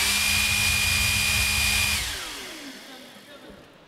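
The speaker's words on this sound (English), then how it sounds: "So let's actually show off this blower." A jet blower on a competition robot roars with a loud, steady rush of air that cuts off abruptly around midway, its whine then fading down into quiet room noise.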